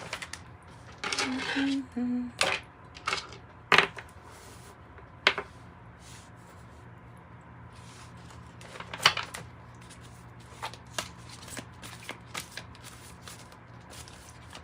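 A tarot deck is shuffled and handled in a quiet room, with a quick flurry of riffled cards at the start, then sparse taps and soft card slaps spread across the rest, close and fairly faint.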